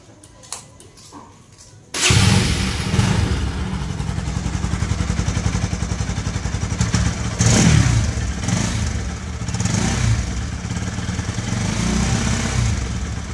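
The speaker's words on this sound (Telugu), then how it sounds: "ఇంజిన్ కూడా చాలా స్మూత్గా అయిపోయింది అనమాట" A Bajaj NS200 motorcycle engine, fitted with a new carburetor, starts abruptly after a quiet moment, then idles with a steady chugging rumble, revving briefly once midway.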